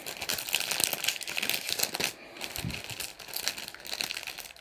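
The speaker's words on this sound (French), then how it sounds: "Excusez-moi pour le bruit du papier." Paper crinkles and rustles steadily while a mailed card's well-wrapped packaging is opened, close and continuous with a brief lull midway.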